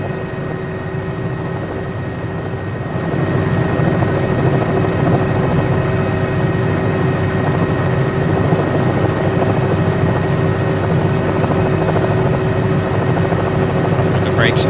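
Steady low-frequency rotor and engine drone of a simulated helicopter in a flight simulator game, continuous and fairly loud, stepping up in level a few seconds in, with a constant whine above it.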